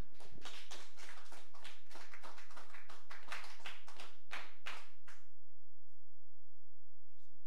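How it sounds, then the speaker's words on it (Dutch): An audience at a spoken word and music evening in the Batjanzaal claps in a steady, evenly spaced rhythm. The claps are fairly quiet and stop abruptly after about five seconds, leaving near silence. "Ik wil als eerste vragen en een hard applaus ook voor Martin Wijdgaard."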